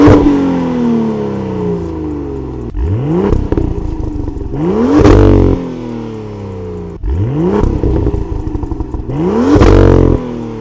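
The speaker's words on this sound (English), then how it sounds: "Stock exhaust test in comfort, sport, and sport plus mode." A BMW M2 (F87) with its stock exhaust revs repeatedly from idle, each blip rising to a loud, close roar and falling back with crackles, several rev runs in a row.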